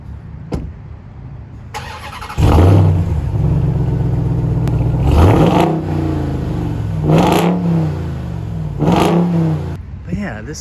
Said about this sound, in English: I'll show you what the exhaust sounds like right here.